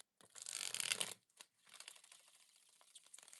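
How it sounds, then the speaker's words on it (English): A burst of soft, papery riffling as tarot cards are gently shuffled, followed by quieter light shuffling and tapping that fades in and out. "Ooh, that's a very gentle shuffle there."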